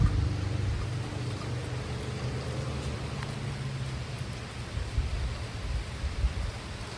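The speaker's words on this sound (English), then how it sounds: "I'm under this awning, so I'm not getting rained on." Rain patters steadily on an awning outside a store, a soft, continuous wash of drops with a low rumble underneath, fairly faint and unbroken.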